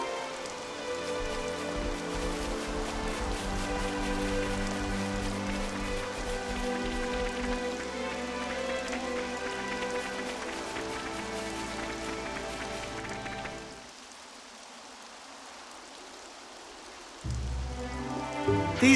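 Rain in Xenoblade Chronicles 3 patters densely on surfaces, mixed with game music, then drops away briefly before returning.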